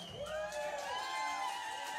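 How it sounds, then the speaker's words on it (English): A crowd at a live band show cheers for the drummer, Daryl. Rising whistles and whoops are heard over a steady wash of cheering, moderately distant and sustained for the whole moment. "Come on, everybody, big fucking round of applause for Daryl."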